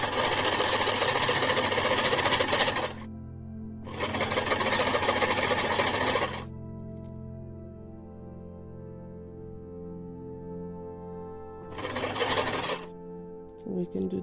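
Bursts of rapid, close whirring come from a sewing machine stitching elastic onto a pleated fabric face mask, with pauses between runs. A steady low background hum sits under them.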